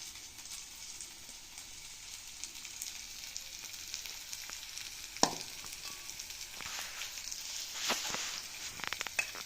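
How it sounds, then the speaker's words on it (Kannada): Tempering sizzles in a hot pan for soaked sabudana (tapioca pearls), a close, continuous crackling fry with scattered sharp pops and spits rising and falling over several seconds. "ಇವಾಗೇನದ ಒಗ್ಗರಣೆ ಹಾಕ್ತೀನಿ ನಾನು."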